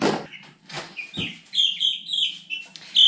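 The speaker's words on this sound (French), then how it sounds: "Maintenant, je vais sortir les petits poussins." Small chicks peep and chirp in quick high bursts as they are brought out, close by, with a few soft rustling knocks at the start and no talking.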